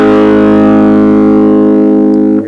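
Electric guitar ringing out the final sustained chords of a song, loud and steady with a long held tone that cuts off abruptly at the end, with no voice.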